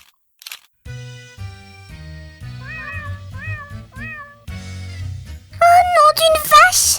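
Small kittens give several high, thin meows, sparse at first and then louder and more insistent near the end, heard close over a soft background of music tones.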